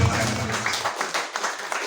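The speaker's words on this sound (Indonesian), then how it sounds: "Kasih tepuk tangan yang paling meriah." Applause from a church congregation at a Saturday worship service, a dense wash of many hands clapping that carries on steadily with a voice speaking over it.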